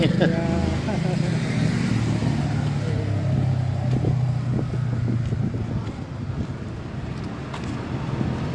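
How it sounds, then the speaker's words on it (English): Cars come up from behind on a neighborhood street, their engines and tire noise passing loud and close amid wind buffeting at the microphone. "I'm not in love with those cars coming up from behind me"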